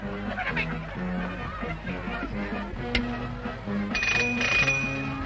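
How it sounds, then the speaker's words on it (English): A bell rings in a few quick, bright dings near the end, over a busy background of music and light laughter, from a 1936 black-and-white film. "Who rang that bell? Who rang that bell?"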